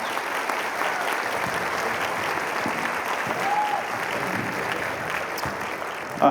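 Sustained applause from a large audience for a middle school band at an all-county band concert, a dense steady wash of clapping that continues throughout with a few faint voices underneath.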